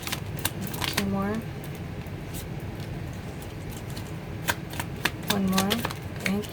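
Tarot cards riffled and shuffled for a pick-a-card reading, two bursts of crisp rapid flutter at the start and near the end, with a voice speaking intermittently over and between them.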